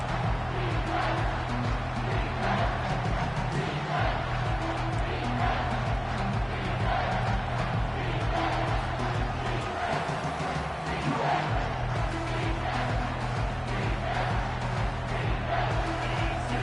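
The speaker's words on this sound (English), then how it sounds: "This crowd knows this defense needs them right now." A college football video game stadium crowd roars as a continuous loud wall of cheering and noise, steady throughout with a low rhythmic chant underneath.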